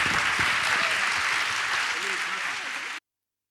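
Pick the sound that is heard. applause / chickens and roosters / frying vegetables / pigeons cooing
applause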